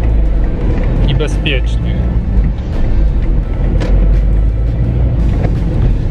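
Car driving along a road, a steady loud engine and tyre rumble filling the whole stretch under a man's continuous speech.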